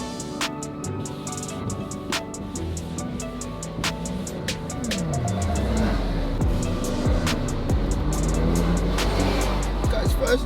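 A 2018 BMW M140i engine, after sitting unused for a long time following a wreck rebuild, idles and then revs, its pitch sweeping up as it pulls away, with rhythmic clicking ticks over the top.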